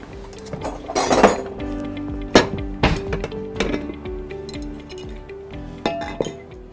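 A metal cooking pot is handled in a home kitchen while soup is being made, giving a series of bright clinks and clanks, some loud and close, spread unevenly over several seconds.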